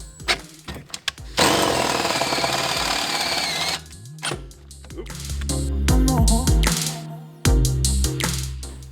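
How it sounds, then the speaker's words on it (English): A power drill whines loudly in a sustained burst while drilling through a Mazda Miata's car floor, then stops; clunks, handling noises and shorter drill revs follow close by. "So now we're just going to drill."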